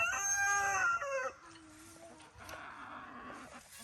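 Chickens forage near a soggy compost pile, with a clear rooster crow at the start followed by quieter clucking and low outdoor noise.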